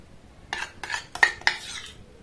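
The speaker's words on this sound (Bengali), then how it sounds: "আমি 3 চামচের মতো টক দই দিয়ে দিলাম।" A spoon scoops about three spoonfuls of sour yogurt into a bowl, producing a few short close clinks and scrapes of metal on the dish, spaced about a quarter second apart, then quiet.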